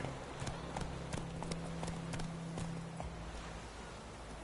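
Roach the horse gallops in The Witcher 3, with quick rhythmic hoof clops close up over a low rumble, steady for several seconds before the hoofbeats drop out.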